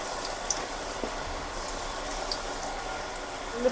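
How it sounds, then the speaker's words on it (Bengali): Goja sweets deep-frying in hot oil, a steady soft bubbling and crackle at moderate level with a few small pops and no talk. "এবার বাকি গজাগুলো এইভাবে ভেজে নেবো সব।"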